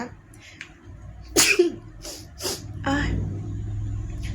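A close, loud sneeze bursts out sharply, followed by a couple of shorter breathy snorts and sniffs over a low steady background hum.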